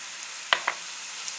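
Spices being stirred into a frying pan, with two quick scraping strokes over a steady, soft sizzle and no voices.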